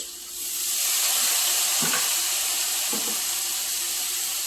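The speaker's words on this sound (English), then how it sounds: "Kind of use it to deglaze the pan and to get a nice flavor" White wine hits a hot pan holding butter and capers for crappie piccata, releasing a loud, steady steaming hiss that swells quickly and holds, with a couple of brief utensil knocks.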